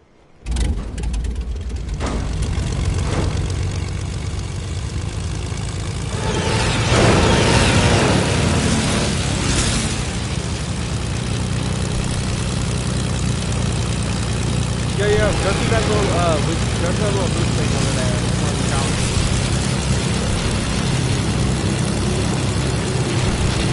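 A propeller plane engine drones steadily in a PS4 game, a constant loud mechanical hum with occasional swells and clatter, voices talking over it at times.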